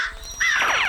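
A cartoon crow caws once in a Malayalam children's story, snatching a fried neyyappam sweet; the call is a single loud, harsh, close burst that starts midway and fills the rest of the moment.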